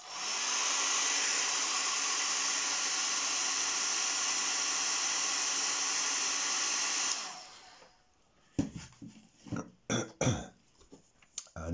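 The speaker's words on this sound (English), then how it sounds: "Just make sure that the pictures dry with the hairdryer." A hair dryer drying painted pictures blows with a steady loud rushing hiss for about seven seconds, then stops, followed by some scattered clicks and rustling.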